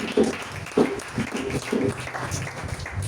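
A church congregation claps and cheers in acclaim, with sharp bursts of applause and raised voices mixed through the hall.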